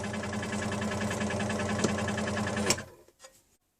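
An Axminster AC405SS scroll saw runs with a steady, fast mechanical buzzing hum like a sewing machine, close and constant, then winds down and stops near the end.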